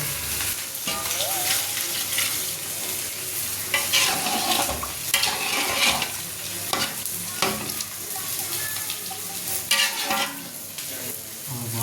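Chicken curry with vegetables sizzling and frying in a pan while being stirred, a steady crackle with repeated scraping strokes, close and continuous throughout.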